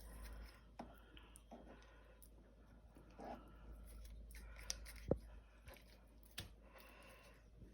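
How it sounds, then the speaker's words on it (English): Kitchen scissors snip through chicken in a series of irregular, sharp cuts, close and fairly quiet, with brief pauses between them. "another way to cut your chicken is with a pair of kitchen scissors"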